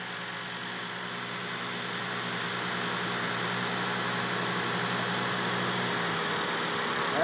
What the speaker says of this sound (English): you heard the engine start to slow down a little bit, which is expected